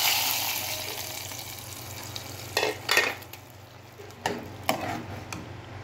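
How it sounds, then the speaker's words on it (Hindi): Faint sizzling in hot ghee with a few short crackling bursts as curry leaves and cumin are stirred in for a tempering, quiet and intermittent. "चंद पत्ते कड़ी पत्ते के आपस में लगा दीजिए इसमें तड़का"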